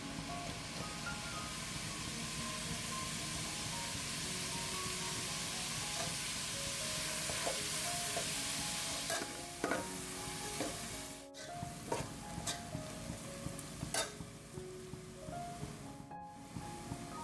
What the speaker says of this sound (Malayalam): അപ്പോൾ അതിൽ സവാള ഇട്ട് കൊടുത്തിട്ട് കുറച്ച് ഉപ്പും കൂടി ഇട്ട് കൊടുത്തിട്ട് നന്നായിട്ട് വഴറ്റിയെടുക്കാം കേട്ടോ.